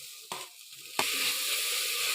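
Tomatoes and green chilies hit hot oil with cinnamon, cloves and fennel for a chicken curry, giving two sharp bursts of sizzling that settle into a steady, close, bright hiss, with no talking.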